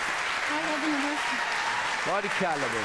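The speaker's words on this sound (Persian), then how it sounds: "گروه یک ما رو تشویق کنید." Studio audience applause at a pantomime league game show, a steady wash of clapping that runs throughout while a voice talks over it.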